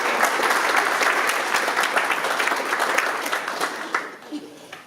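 Loud, dense crowd applause fills the room at a Caribbean talk event, a sustained roar of many hands that thins and tapers off toward the end.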